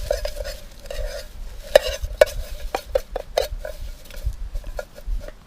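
A camping pot scoured with dirt to lift grease: rhythmic gritty scraping strokes against the metal, close and clear, with sharper scrapes and knocks clustered in the middle.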